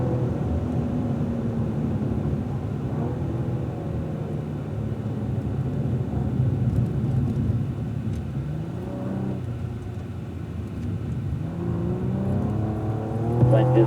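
A Cadillac ATS-V laps Fontana Speedway, its engine droning and rising and falling steadily through braking and acceleration, loud and close from inside the cabin for the whole stretch.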